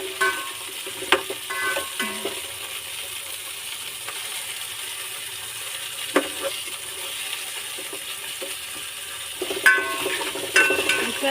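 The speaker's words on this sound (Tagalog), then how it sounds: "Gigisa na natin siya." Onion, tomato and ginger sauté in a pan for ginataang tilapia, a steady close sizzle with occasional stirring scrapes and light clinks of a utensil against the pan.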